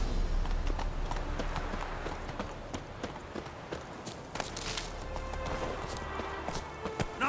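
Roach, Geralt's horse in The Witcher 3, galloping in quick rhythmic hoofbeats over steady outdoor ambience, moderately near and continuous with no talk.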